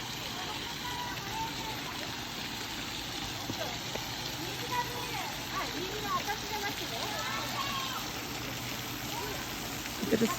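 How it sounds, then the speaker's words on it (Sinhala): A water fountain in a hydrangea flower park gives off a steady, gentle splashing rush that continues throughout while a voice talks over it. "මේ වගේ ලස්සන වතුර මලක් තියෙනවා"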